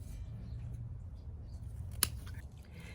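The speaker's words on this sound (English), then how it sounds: "So I'm going to cut it way down there." Pruning shears snip once through a rose bush stem in a shaded perennial garden, a single sharp close cut standing out against a quiet outdoor background.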